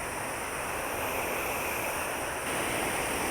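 Water from a waterfall pours down into the sea, a steady broadband rush like surf that holds at a constant level throughout, close and loud with no voices.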